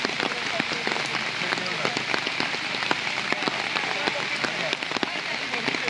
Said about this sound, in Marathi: पाऊस पण खूप येतोय, तर तुम्ही बघू शकता.